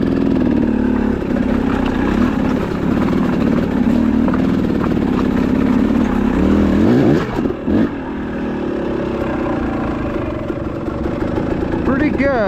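Motorcycle fitted with an XTNG Gen3 Pro metering-rod carburetor, ridden in second gear over rocky ground with a clutch that needs bleeding; its engine drones steadily and close, swells briefly near the end, and is overlaid by wind and rider noise.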